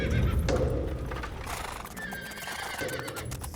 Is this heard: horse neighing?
yes